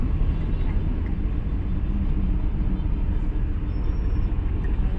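Busy street traffic in Kolkata, with yellow Ambassador taxis among the crowds: a dense, unbroken roar of engines and road noise that stays loud and even throughout, with one faint high tone near the end.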